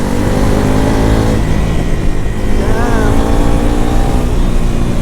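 Bajaj Pulsar NS400Z motorcycle (2026) accelerating hard in sports mode, a loud continuous engine roar with rising revs and heavy wind noise.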